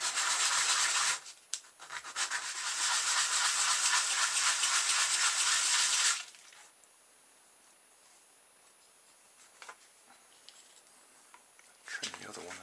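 Sandpaper rubbing along the edge of a small model car part, a loud continuous scratchy rasp for several seconds with a short break, then near silence with faint handling.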